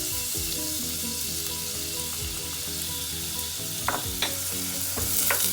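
Onions sautéing in melted butter in a pot give a steady, close sizzle, broken near the end by a few sharp scrapes and knocks of stirring.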